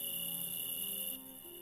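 Crickets in the video game Project Gorgon chirp in a steady, high, continuous trill, quiet and ambient, with no speech over them.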